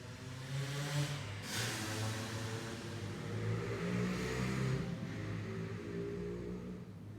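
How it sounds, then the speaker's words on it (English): Motorbike engines revving and droning steadily in the distance, faint and continuous, rising and falling slightly with no voices. "Sounds of the motorbikes outside reminding me of where I live"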